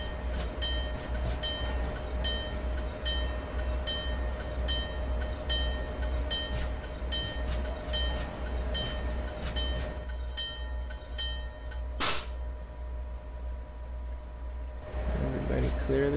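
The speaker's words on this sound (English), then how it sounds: "Train's coming in." An MBTA Franklin Line commuter train in a railway simulation game rumbles steadily along the track toward Boston with metallic clatter and ringing tones, a sharp hiss bursting out near the end.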